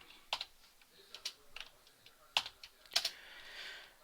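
Sparse, quiet keystrokes on a computer keyboard while fixing assembly code: a handful of separate clicks with short pauses between them, close up and alone, with no talk.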